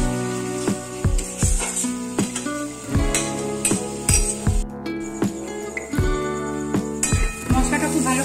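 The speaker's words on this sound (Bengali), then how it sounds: "গ্যাসটাকে বাড়িয়ে মশলাটাকে একটু ভালো করে কষিয়ে নেব।" Soya keema masala being stirred and sautéed in a pan over raised heat, a spoon clinking and scraping against metal in a steady rhythm of sharp knocks over a faint sizzle, close and fairly loud.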